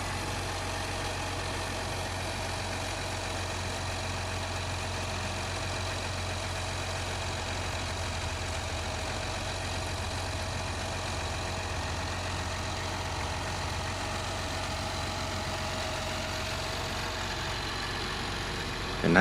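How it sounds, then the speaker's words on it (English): A New Holland T8 tractor engine rumbles steadily while driving, a constant low drone with no pauses or talk. "Now we're just driving the tractor back to the center line"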